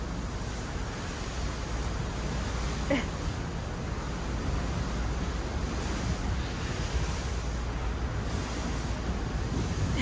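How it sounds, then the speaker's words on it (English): Ocean water rushes past a Celebrity Cruises Beyond cruise ship in a steady, washing hiss mixed with wind buffeting the microphone, continuous and fairly soft throughout. "I don't know if you can hear it, but you can hear water."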